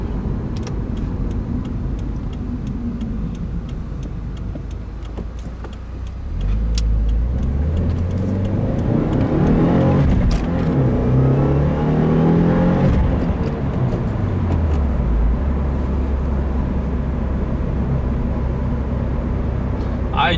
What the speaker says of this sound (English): I do really drive the piss out of this car, man